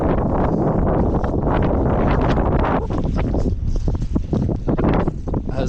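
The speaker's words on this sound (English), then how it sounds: "it's quite windy as well" Strong gusts of wind buffet the microphone on an exposed hillside walk at Kinder Scout, a loud, steady roar with rumbling low-end surges and no voices.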